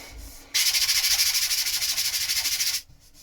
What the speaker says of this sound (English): Just a quick little sand and that takes that off.